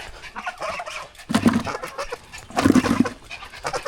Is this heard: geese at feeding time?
yes